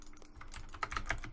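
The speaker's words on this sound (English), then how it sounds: "I better start jitter clicking" Fast, light plastic clicks in a quick irregular flurry from a computer mouse being jitter clicked during a Minecraft Sky Wars match, close and faint.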